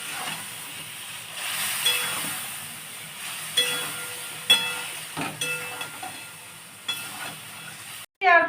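A paste of fenugreek and poppy seeds hisses and sizzles steadily in a pan over low heat, with occasional soft clinks of a spatula and no voices.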